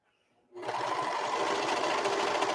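Serger overlocking the raw edge of an apron, a dense steady whir that starts abruptly after a brief near-silent pause and runs fast and continuous close by.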